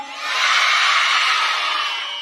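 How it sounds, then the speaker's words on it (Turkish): A large group of schoolchildren shouts together in one loud, sustained roar that swells and holds for a couple of seconds. "Biraz daha bağırın."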